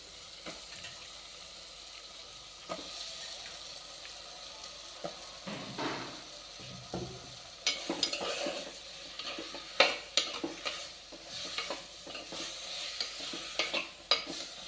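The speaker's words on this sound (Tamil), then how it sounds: "இப்போ இந்த நேரத்தில் நம்ம கத்திரிக்காயை போட்டுக்கலாம்." Brinjal pieces are stirred into a Tirunelveli-style spicy gravy frying in a pan, with a low sizzle and irregular spoon-and-pot scrapes and clinks that grow busier and louder in the second half.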